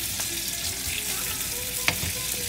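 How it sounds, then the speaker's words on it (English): Chopped onion sautéing in a pan, a soft, steady sizzle running throughout, with one brief sharp clink partway through, fairly quiet and alone. "So we want to saute the onion till it turns translucent and soft."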